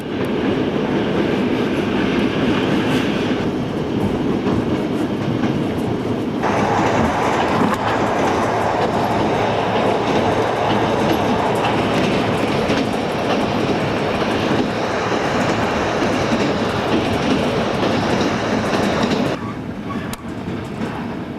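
Train rolling on rails toward Krasnoyarsk, heard from inside a sleeping compartment on a 1993 long-distance journey: steady loud rumble with rhythmic clickety-clack of wheels over rail joints, continuous throughout with no talk.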